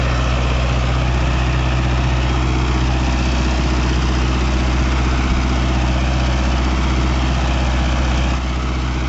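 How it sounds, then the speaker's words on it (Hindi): A Mahindra Novo 655 tractor, 65 HP, running with a 9-foot Param rotavator in black clay soil, its engine a loud, steady low rumble and drone held close and constant throughout. "जो ये ट्रैक्टर है महिंद्रा नोवो 65 HP का जो ट्रैक्टर है"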